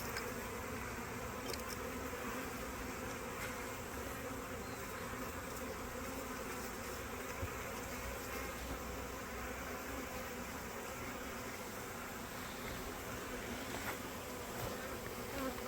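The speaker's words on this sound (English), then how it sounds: "she has little guard bees with her as well" A dense, steady buzzing of many bees around their queen at a homestead hive fills the whole stretch, close and continuous with no pauses and no voices.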